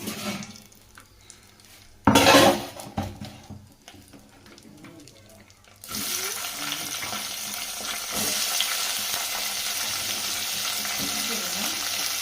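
Brinjal, tomatoes and green chillies tipped into hot oil give a sharp burst of sizzling, fade briefly, then settle into a loud, steady crackling fry that carries on to the end.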